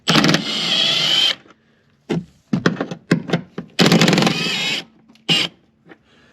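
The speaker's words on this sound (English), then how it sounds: "starting off by taking off the 16mm bolts that are right up here." Impact wrench removing 16mm bolts from the rear shock mounts of a 2004 VW New Beetle: loud, close bursts, two long rattling runs about a second each separated by several short quick hits.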